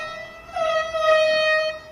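An air horn blares from a played video in one sustained, loud, tonal blast that swells midway and holds for nearly two seconds.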